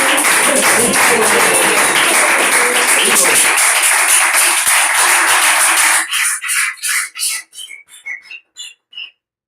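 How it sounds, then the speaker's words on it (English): Audience applause and cheering at a Srimad Bhagavatam reading, loud and continuous for about six seconds, then breaking into a few scattered claps and whistles before fading out. "give him a big round of applause"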